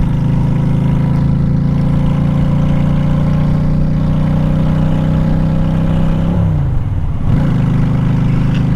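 A 2007 Honda Shadow Aero 750 cruiser motorcycle cruising along, its engine holding a steady, loud, close drone before the pitch dips briefly and then settles back into an even hum.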